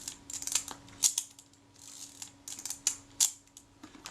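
A Kodak Retina IIIc camera shutter fires several times at slow speed, giving sharp mechanical clicks and snaps at irregular intervals, close up and quiet.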